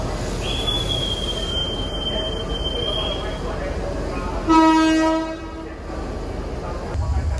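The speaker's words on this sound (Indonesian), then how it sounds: "Baru saja kereta api wisata yang saya naiki ini meninggalkan stasiun Tuntang" A tourist train pulls away from Tuntang station with a long high-pitched wheel squeal, then a loud horn blast sounds nearby before the rumble of rolling cars settles back.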